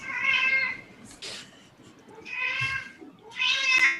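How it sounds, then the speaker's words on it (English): A domestic cat meows insistently three times in a row, close and loud, each call long and drawn out with short pauses between. "Insistent cat."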